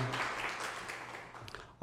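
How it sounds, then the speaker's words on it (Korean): A Korean church congregation in Montreal applauds warmly for the choir at an evening revival meeting, a brief burst of clapping that fades away quickly. "우리 뜨거운 박수로 함께 격려하십니다."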